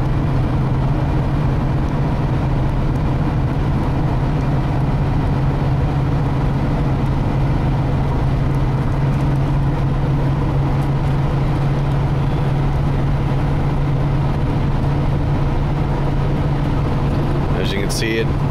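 A 1996 Ford E-350 van drives and accelerates, its steady low engine hum and road rumble running continuously throughout, with a brief rattle near the end.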